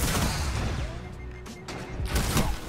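Skyburner's Oath exotic scout rifle firing in Destiny 2, heard as a few loud, sharp bursts of gunfire mixed into dense game sound effects.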